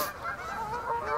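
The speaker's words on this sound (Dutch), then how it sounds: "Er zitten heel veel ganzen erachter, dat is echt niet normaal." Many geese honk together in a flock, loud and close, with overlapping calls continuing for about a second.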